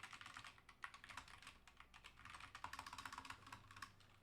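Rapid typing on a SteelSeries Apex Pro TKL keyboard with OmniPoint switches and ABS keycaps, dense quick clacks close to the mic, steady and uninterrupted with no talking.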